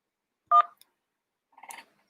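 Two brief telephone keypad tones sound, separated by about a second of silence, clear and isolated.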